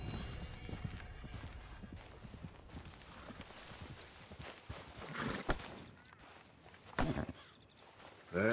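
A horse's hooves clip-clop steadily while being ridden in Red Dead Redemption II, close and rhythmic over ambient game sound, with a few louder thuds and an occasional snort.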